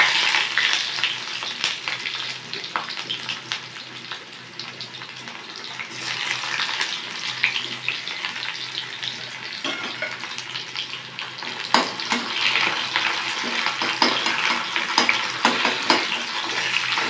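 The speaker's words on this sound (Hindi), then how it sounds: "पियाज पकईदेली" Onions fry in a pan after spices are tempered, a loud continuous crackling sizzle with occasional stirring clatters, no talk throughout.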